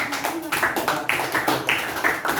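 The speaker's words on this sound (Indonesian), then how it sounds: "tepuk tangan semuanya" A class applauds a student group in rhythmic, evenly spaced clapping, about five claps per second, steady and fairly close throughout.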